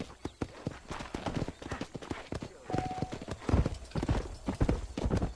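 Rapid clip-clop of horse hooves galloping in a steady rhythm in Red Dead Redemption, fairly close, with a brief whinny-like tone partway through.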